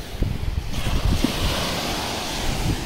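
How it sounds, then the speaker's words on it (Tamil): Ocean waves breaking at night on Gopalpur beach in Odisha, a surging wash of surf that builds and spreads into a steady roar, with wind buffeting the microphone. "ஒரு வேவ் வரும் காட்டுறேன் இல்லைங்க எவ்வளோ தூரத்துக்கு வருது மட்டும் பாருங்க."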